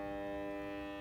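A Whirlpool dryer switched on with its motor not running gives off a steady, even electrical hum with a tonal, buzzing edge that holds unchanged for the full second, with no voices.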